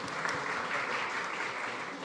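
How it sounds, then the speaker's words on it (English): Audience clapping at a food summit panel, a steady wash of many hands filling the room, moderately distant and fairly quiet, with no talk over it. "You can clap."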